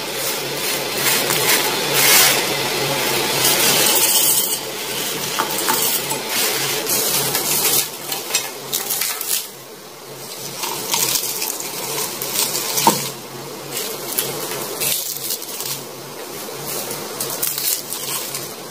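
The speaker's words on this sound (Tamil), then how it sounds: "முதல் ஒரு மிக்ஸி ஜாரில் பருப்பு இதெல்லாம் நல்லா போட்டு அரைச்சிக்கலாம்." A mixer grinder whirs loudly and continuously as it grinds lentils and dried red chillies, the pitch shifting and rattling as contents churn, with brief pauses.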